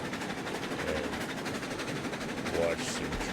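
A train rolls along in RailRoads Online, a steady rhythmic clatter of wheels over rail joints, moderately loud and continuous, with a brief squeal or whistle near the end.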